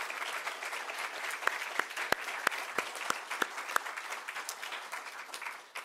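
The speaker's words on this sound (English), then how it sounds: "Please give them one big round of applause again." A conference audience at a lecture series gives sustained applause, a moderate wash of clapping with several loud, sharp claps close by, fading slightly at the end.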